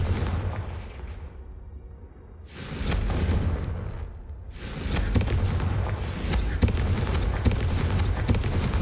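Confringo blasting spells hit candelabras in Hogwarts Legacy, heard as heavy booming blasts with a crackling roar. One burst lands at a few seconds and sustained fiery rumbling follows.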